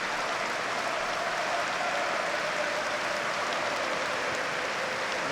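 A full stadium crowd at a Sunderland football match rises in sustained standing applause, a dense, even roar of thousands of hands clapping, steady and unbroken throughout, with no voices standing out.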